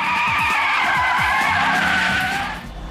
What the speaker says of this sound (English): Testing police cars in Arizona,